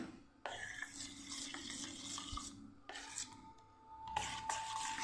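Water splashes into dhokla batter, followed by close wet stirring and scraping in a bowl to thin it, pausing briefly between bursts of mixing.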